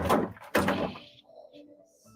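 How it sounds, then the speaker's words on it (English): A door opens and closes in a large, fairly empty house basement, giving two close, loud thunks about half a second apart, followed by a quieter low rumble and faint knocking as the door settles. "Doors make a lot of noise."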